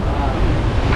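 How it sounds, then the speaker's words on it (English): Wind blows across a sailboat at sea, a dense, steady rush of noise buffeting the microphone with no pauses throughout. "finally the wind has picked up"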